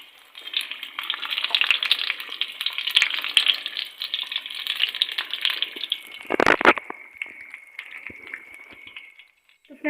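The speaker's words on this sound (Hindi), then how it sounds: "इसमें इसे हमने अच्छे से सारी तरफ से फ्राई करना है।" Keema rolls sizzling in a frying pan, a steady bright hiss of hot oil that runs for several seconds, briefly broken by a clattering knock, then fades to a thinner sizzle.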